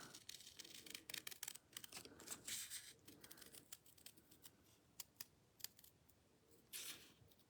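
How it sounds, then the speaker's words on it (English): Small scissors fussy cutting a paper planner sticker, a quick run of crisp close snips in uneven bursts, fairly quiet, with no one talking. "we are almost done fussy cutting this guy out"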